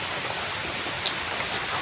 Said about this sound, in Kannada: ಮಂಗಳೂರಲ್ಲಿ ಕೂಡ ಹಾಗೆ ತುಂಬ ಮಳೆ ಬಂದಿದೆ